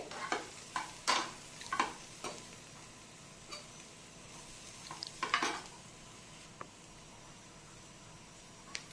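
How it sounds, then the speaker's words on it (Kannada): Beans frying in oil in a pan give a faint sizzle, broken by quiet scraping and tapping as a spoon stirs them, with clusters of clinks against the pan and long soft pauses between. "ಈಗ ಎಣ್ಣೆ ಹಾಕಿದ ಮೇಲೆ ಫ್ರೈ ಆಗ್ತದೆ"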